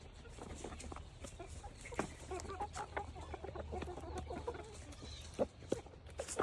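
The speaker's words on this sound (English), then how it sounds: "Mom, you can't call a rooster Buttercup." Chickens on a homestead, a rooster among pullets, cluck and chatter in a busy, fairly quiet flock, with scattered short calls and a few sharper squawks over a low background hum.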